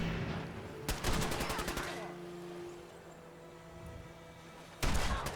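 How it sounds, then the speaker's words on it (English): An auto rifle lays down suppressive fire in a video game arena fight: rapid bursts of gunfire, one burst near the start and another at the end, with quieter gaps between them. "Raider auto rifle laying down suppressive fire."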